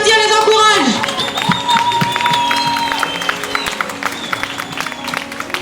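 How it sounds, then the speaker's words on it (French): An audience claps and cheers for students stepping onto a stage at a school language-week event, the applause starting loud and slowly easing as a voice sings or calls out over the crowd early on. "Allez, on les applaudit, on les encourage."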